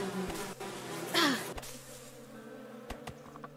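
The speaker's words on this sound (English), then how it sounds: "Beehives everywhere over here, hell yeah." A single bee swoops close past beehives in the survival game Above Snakes, a quick rising and falling buzz. Around it sit a low steady hum and a few sharp clicks, with no voices.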